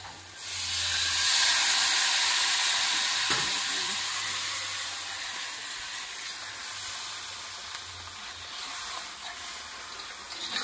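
Water poured into a hot pan on a home stove sets off a loud, sustained steamy hiss that swells in the first second and slowly fades over about ten seconds, close by, with no talk.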